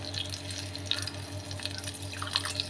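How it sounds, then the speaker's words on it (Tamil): Two cups of water splash into a cooking pot for ragi kali, a close, trickling pour with scattered drips and no voices. "2 கப்பு தண்ணி ஊற்றினா போதும்."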